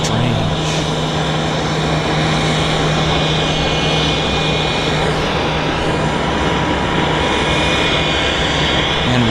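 A WestJet airliner at Vancouver YVR airport turns onto the active runway, its engines giving a loud, constant roar with a steady whine that holds throughout.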